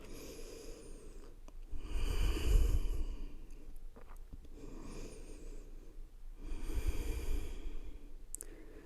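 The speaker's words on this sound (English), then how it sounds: "Two more breaths." Slow, deep breaths during a yoga class, two long soft inhale-exhale cycles, close and quiet with no talking.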